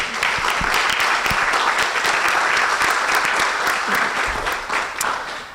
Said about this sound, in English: a round of applause for the entire 19th team